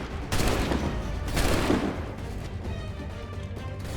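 Musket volley in Assassin's Creed 3 on Xbox 360: a dense, roaring burst of overlapping gunfire from a line of soldiers, loud and close, then a rumbling echo and scattered shots trailing off.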